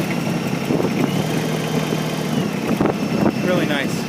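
A 2019 New Holland Workmaster 25S sub-compact tractor's engine runs at a steady, close, mid-pitched idle, with a few clicks and knocks and a person talking over it.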